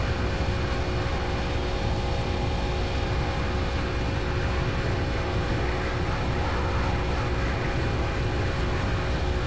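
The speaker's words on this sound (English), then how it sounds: "That's the problem with each plane, they have different sounds." Steady airliner engine drone from a flight simulator game, a continuous loud hum with constant tonal whine and no break across the whole stretch.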